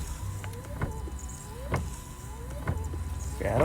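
Windshield wipers on a Ford Transit sweep back and forth in a steady rhythm of about one pass per second, each stroke giving a short squeak and thump over a low motor hum.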